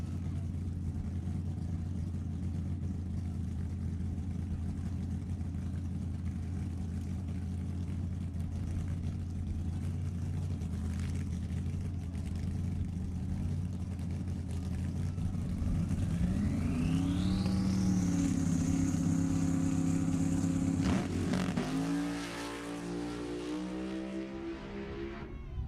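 A Hurricane 555-powered Camaro drag racing heads-up over an eighth mile at Sacramento Raceway: a steady engine drone rises into a long, loud acceleration whose pitch climbs and holds high, then cuts off and drops away near the end.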